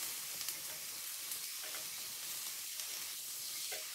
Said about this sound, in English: Sizzling away, the mustard there is amazing.